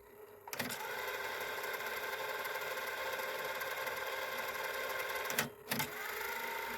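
Motor of a Realistic SCT-42 cassette deck running in rewind, a steady whirring hum with a click at the start and clunks near the end, close and constant.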